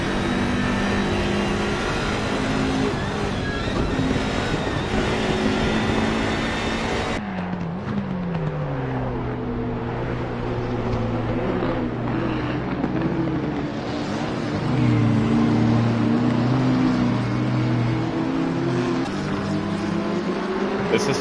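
Race car engines rising and falling in pitch as cars brake and throttle through a left-right corner sequence in classic racing, loud and continuous, with overlapping revs from more than one car.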